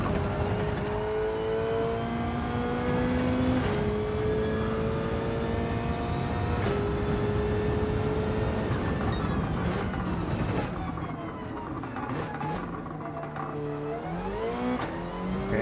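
Race car engine in Gran Turismo 7 revving hard and climbing through gears, with repeated rising whines and sharp drops at each shift, loud and continuous.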